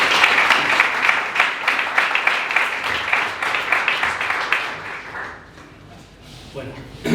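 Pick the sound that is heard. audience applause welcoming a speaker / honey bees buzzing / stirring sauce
audience applause welcoming a speaker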